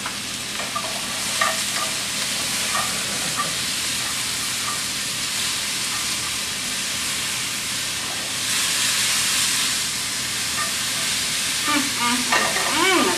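A tablespoon or so of garlic sizzles steadily in a hot pan while cooking a mushroom flatbread, a continuous close frying hiss with occasional stirring scrapes.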